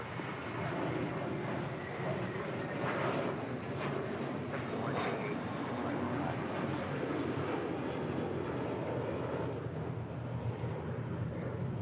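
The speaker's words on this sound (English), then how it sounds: "That is Mintfully Yours, departing to Boston, JetBlue Airways Flight 188. It's an A321" A JetBlue Airways A321 departing LAX for Boston gives a continuous broad, rumbling engine roar, moderately distant and steady for the whole stretch with no speech.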